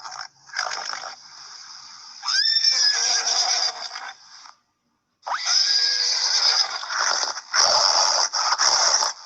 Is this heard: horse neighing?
yes